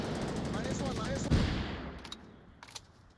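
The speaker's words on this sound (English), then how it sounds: "A lot of reinforcement and a lot of gunfire coming down this main lane." Gunfire in the competitive VR shooter Onward, with bursts of shots and automatic fire rattling through a busy match while a commentator talks over it, the shooting fading and growing sparser toward the end.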